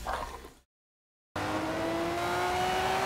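Race cars, a Ferrari among them, accelerate hard in Forza Horizon 4, with engine noise cutting to a brief silence and then returning as a loud, steady rising whine of revving motors.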